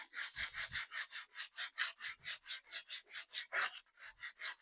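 Coarse 80 grit sandpaper, folded by hand, rubs back and forth over a wooden saber in quick regular rasping strokes, about four or five per second, close and crisp with nothing else heard.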